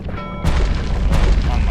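A grenade exploding in the game Bastion, a sudden loud boom that breaks in partway through, then a rumbling decay with another burst shortly after.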